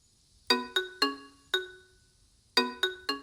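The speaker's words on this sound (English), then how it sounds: "The phone rang again." A melodic electronic ringtone plays two short phrases of bright chiming notes, separated by a pause, clear and isolated against quiet.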